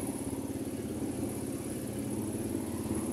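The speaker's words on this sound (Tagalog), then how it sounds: "Sumakay na ako ng motor" A motorcycle ride in Baliwag produces a steady, continuous engine drone with road and wind noise throughout, moderately loud and with no talking.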